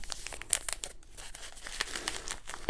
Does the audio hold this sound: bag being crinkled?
yes